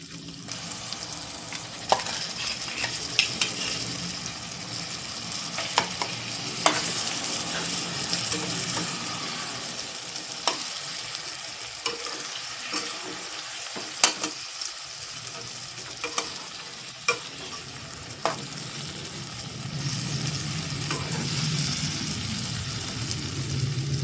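A ground paste of garlic, peanuts and coriander sizzles in a pan for a red amaranth curry, a soft steady frying hiss broken by sharp clicks of stirring.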